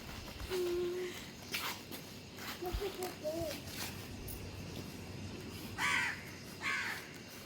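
Birds calling outdoors near a balcony in the morning, with a few crow-like caws and short chirps at scattered moments over steady background noise and faint distant voices.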